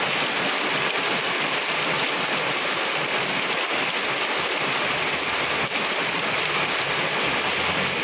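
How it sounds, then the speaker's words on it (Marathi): Floodwater runs steadily over a footpath in heavy rain in Kharghar Sector 19, Navi Mumbai, beside a large pothole on the road. A dense, continuous rushing wash stays close and loud throughout, with no voices. "फुटपाथच्या वरपर्यंत आता पाणी येतोय."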